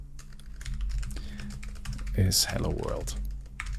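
Keystrokes on a computer keyboard while writing Solidity code, a steady soft clatter of typing under a man's speech throughout.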